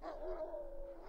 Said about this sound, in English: Whoa, dogs?